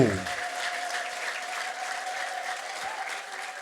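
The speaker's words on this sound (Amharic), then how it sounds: "ከፍ አድርጋችሁ ለኢየሱስ አጨብጭቡ።" A church congregation applauds for Jesus, dense steady clapping from a crowd that continues throughout with faint voices mixed in.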